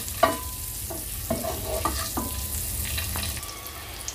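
Eggs frying in a masala in a pan for a dhaba-style egg curry, a soft steady sizzle with intermittent scrapes and clinks of a stirring spoon, no talk.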